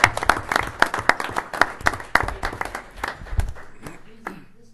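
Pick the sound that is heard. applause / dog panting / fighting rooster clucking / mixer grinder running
applause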